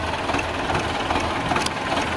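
A dirty farm tractor, just back from hauling manure, runs with a steady close mechanical drone and rattling vibration, no pauses across the short stretch.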